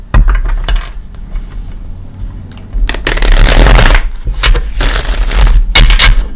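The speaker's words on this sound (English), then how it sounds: "we'll give it a couple shuffles" A Cosmic Tarot deck is shuffled loudly up close, a soft riffle first, then two long, dense bursts of rapid flapping and clattering.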